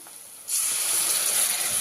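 Water poured into a pan of hot frying red chilli masala, bursting into a loud, steady steaming hiss after a quiet first half-second, close and without talking.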